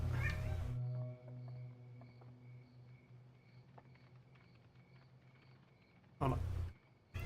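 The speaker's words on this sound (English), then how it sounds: "one of her cats is going off" A house cat yowls loudly at night, in two drawn-out bursts at the start and end. Between the calls there is a quiet stretch of soft room noise and faint movement.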